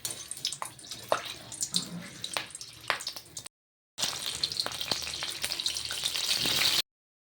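Three green chillies fry in hot oil for samosa filling, a crackling sizzle with sharp pops and spits, broken by a brief silent cut before the bubbling frying resumes steadily and fairly close.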